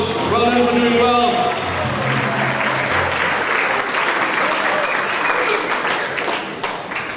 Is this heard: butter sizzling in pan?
no